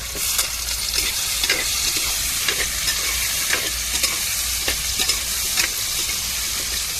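Food sizzles steadily in hot oil for a chicken curry while a utensil scrapes and stirs the pan in repeated strokes, close and clear with no talking.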